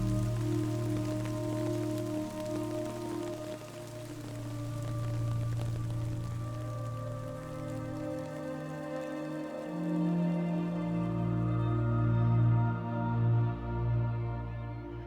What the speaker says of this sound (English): Or is it not timefall and it's just regular rain?